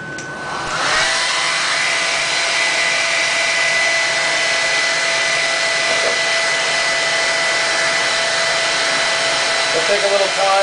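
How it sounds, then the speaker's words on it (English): A regular handheld blow dryer heats the factory stickers on a motorcycle that has been sprayed with WD-40, switching on and then running as a steady, close, loud whirring hiss for the rest of the clip. "we're going to do is going to hit it with a regular old blow dryer"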